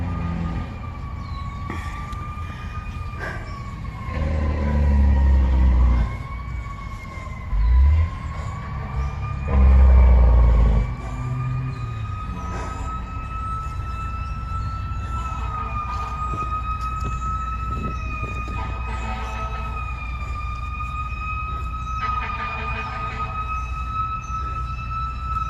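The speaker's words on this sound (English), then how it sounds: "That siren you likely heard was a fire truck" A fire truck siren wails past a cemetery in South Burlington, Vermont, its rising and falling tone steady and moderately distant, with a few loud low thumps early on.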